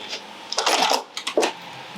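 A sewing machine stitches over a wrist strap in two short whirring bursts, quiet and close.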